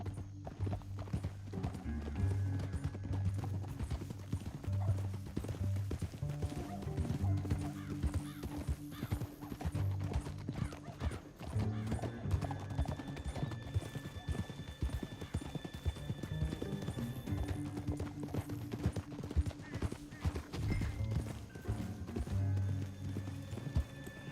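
Continuous clip-clop of horse hooves at a steady gait, with galloping rhythm and a low droning score underneath throughout, in the video game Red Dead Redemption.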